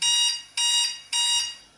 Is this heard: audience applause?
no